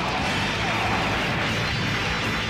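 Gunfire and explosions from the arcade shooter Metal Slug 5 on PS2 form a dense, loud barrage of blasts with no break.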